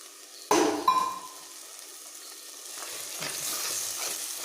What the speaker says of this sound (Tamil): தக்காளி வணங்கிருச்சு, முட்டை ஊற்றுறேன்.